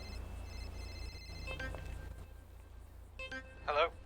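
A phone rings in GTA RP, a thin electronic ringtone repeating in short bursts at moderate volume over a low background hum.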